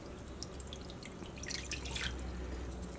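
Water poured into custard powder in a bowl, a soft continuous trickling and splashing that swells slightly midway, close but faint, with no talk.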